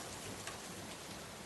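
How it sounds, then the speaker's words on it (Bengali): Heavy rain falling in big drops makes a steady, dense hiss of patter, faint and even throughout with no breaks. "এমন সময় বৃষ্টি নামল, বেশ বড় বড় ফোঁটা"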